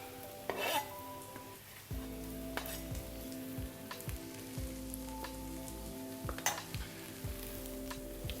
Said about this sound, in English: We'll give that a stir in.